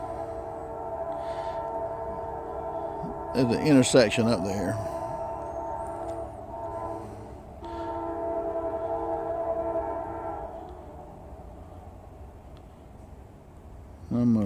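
A freight train, the southbound Q198, approaches from a distance with a steady low rumble that echoes along the line, a horn sounding in long tones, while someone talks briefly nearby.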